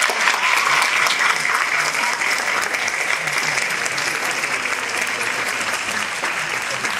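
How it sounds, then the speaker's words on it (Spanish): Audience at a talk claps in sustained, dense applause, many hands beating evenly and close for several seconds without pause. "creo que se merece un aplauso"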